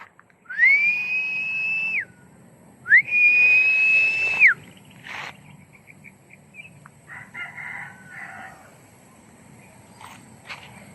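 Two long, steady whistled notes, each lasting over a second with a brief pause between, followed by softer scattered chirps and a quiet background.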